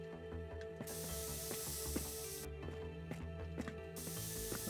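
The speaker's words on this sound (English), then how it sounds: "give this a bit of a spray." Spraying in the video game Forensics: Crime Scene Detective, two bursts of bright hiss from a spray can with ratcheting mechanical clicks over a steady low hum.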